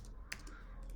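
Brief burst of computer keyboard typing, a few quick faint key clicks close by, no voices.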